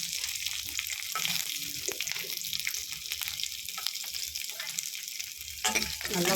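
Small onions with cumin and curry leaves sautéing in oil for a bottle gourd kootu, a dense loud sizzle with steady stirring scrapes, close and continuous, a brief louder stir near the end.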